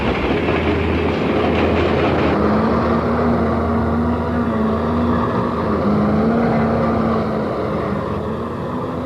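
Freight train loaded with flat cars rolling on rails in British Columbia, a loud, continuous rumble with a steady low drone and faint rhythmic wheel clatter throughout, no voices.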